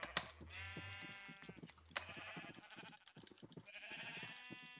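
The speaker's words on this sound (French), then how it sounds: "Juste finir de tondre les moutons." Sheep in the Attack of the B-Team Minecraft modpack bleat repeatedly while being sheared, three long wavering baas close up over quiet clicking keyboard taps.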